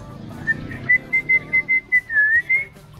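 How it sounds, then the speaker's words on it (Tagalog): A cockatiel whistles a series of short, clear high notes in a quick rhythmic run, ending with a slightly longer sliding whistle, close by. "Sumisipol po yan."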